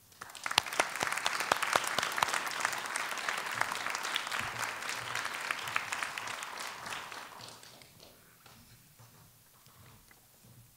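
Audience applause welcoming Archbishop Donald Bolen to an evening lecture in the Veritas Lecture Series, a sustained crowd clapping that stays steady for several seconds and then thins to scattered claps as the room quiets.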